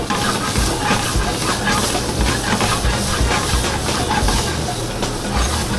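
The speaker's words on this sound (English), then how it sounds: "Gonna blister up some grape tomatoes real quick" Grape tomatoes blistering in a hot pan, a loud continuous sizzle and hiss with steady crackling spatter throughout, no talking over it.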